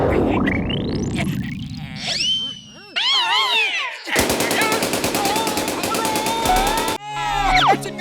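Cartoon gunfire rings out in loud rapid bursts amid zany sound effects: rising whistles, boings and chirpy tones, with stretches of machine-gun-like rattling in the middle and toward the end, no speech.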